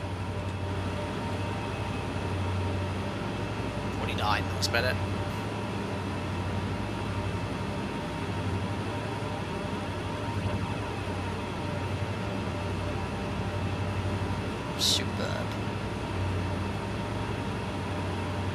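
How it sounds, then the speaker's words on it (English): Diesel locomotives hauling a 60-car freight train uphill in Train Sim World 2, with a steady low engine drone and rumbling wheels throughout, a few brief high metallic squeals, and someone speaking briefly. "It does sound like those engines are working hard."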